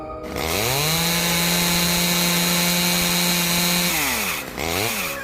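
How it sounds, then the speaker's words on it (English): A chainsaw roars close and loud, its engine revving up then holding a steady whine before dropping off and briefly revving again. "I think we should have the chainsaw running the whole time."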